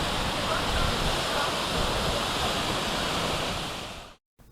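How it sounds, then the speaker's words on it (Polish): A waterfall in the Balkans roars as a dense, constant wash of rushing water, loud and unbroken for several seconds before cutting off abruptly, with no voices over it. "Wodospad jest śliczny"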